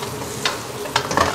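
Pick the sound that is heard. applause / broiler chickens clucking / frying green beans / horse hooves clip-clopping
frying green beans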